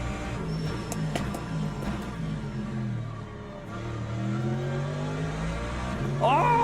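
A race car engine in the sim racing game Le Mans Ultimate, pulling loud and steady through changing revs, then rising sharply in a quick climb near the end.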